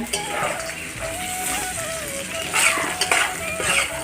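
Peanuts sizzle steadily as they are stirred in ghee with salt and green chillies, a continuous frying hiss broken by a few louder scrapes and clinks of the utensil against the pan.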